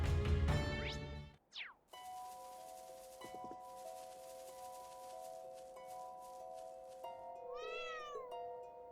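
A cat meows in the video game Trails of Cold Steel III. A few distinct meows rise over soft, sustained in-game background tones.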